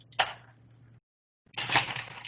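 Ice cubes dropped into a glass in two close clattering bursts: a sharp crack that trails off, a short silence, then a longer, denser rattle of cubes.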